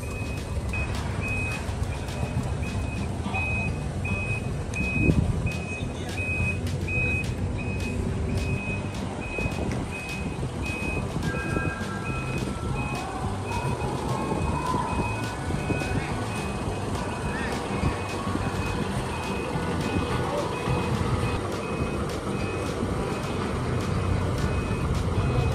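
Steady reversing beeps sound over the deep rumble of a bus engine as the bus backs onto a ferry from Caticlan to Roxas. Large vehicles and general ship and port noise fill the background.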